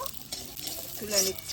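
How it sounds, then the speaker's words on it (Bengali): Pointed gourd (potol) fries in a pan with a soft, fairly faint sizzle and a brief utensil scrape, as a voice speaks a few words over it. "এদিকে আমার পটল ভাজা হয়ে গেল"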